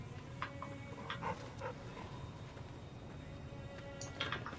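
Cheyenne, a dog in the video game Fallout New Vegas, gives several faint whimpers and soft yips in short bursts over quiet game ambience.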